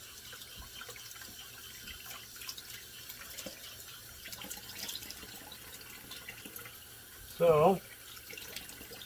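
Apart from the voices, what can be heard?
tap water running for rinsing after a shave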